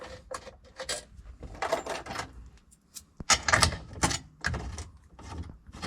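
Bolts are run into a Toyota SW20 MR2 in bursts of metallic clicking, rattling and ratcheting, close by and irregular, separated by short quiet gaps.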